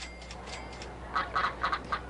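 Ducks in the Rollercoaster Tycoon video game give a few faint quacks in quick succession, set over a quiet steady background of game ambience.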